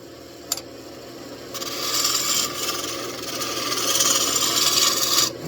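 A roughing gouge tapers a spinning wood blank on a wood lathe, starting with a brief tap before a steady, fairly loud rasping scrape that swells and continues close by without any talk.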